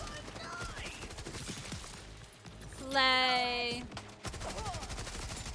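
Gunfire in a video game with a rocket launcher around, a dense rattle of shots under a player's talk, then a brief tonal burst as a shout rings out.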